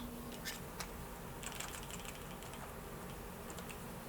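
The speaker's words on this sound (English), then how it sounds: "Clamp firmly." A Wood River bar clamp is tightened against a clean piece of paper, giving a few dry ratcheting clicks and creaks. The clicks are quiet and close, with no talk over them.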